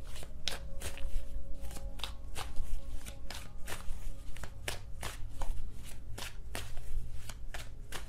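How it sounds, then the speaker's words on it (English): Tarot cards being handled and laid down, a run of quick, crisp flicks and soft slaps at an uneven pace, close and fairly quiet. "let's put the cards down here"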